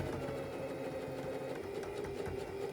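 A sewing machine stitching a quarter-inch hem on a fabric skate cover, running as one continuous, even mechanical whir at close range, quiet overall and without pauses or talk.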